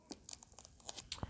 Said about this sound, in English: you can lift these labels off in a couple of ways